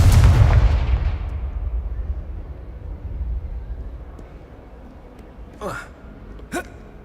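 Confringo blast spell cast in a Harry Potter video game: a loud, booming explosion opens and fades into a long rumbling decay, followed by two brief whooshing effects.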